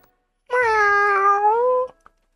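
A cat in the video game Hiveswap gives one drawn-out, tonal meow, clear and close, standing alone against silence.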